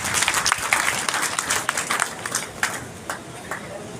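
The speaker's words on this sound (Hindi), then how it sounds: "सामने सब लोग ताली बजा के जोरदार स्वागत करेंगे।" An audience at a BJP social media volunteers' conference applauds to welcome guests on stage, with dense, steady clapping from many hands that gradually thins toward the end.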